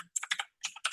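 Quick clicking keystrokes on a computer keyboard while code is typed, four short clusters of crisp taps with brief pauses between them, close and alone.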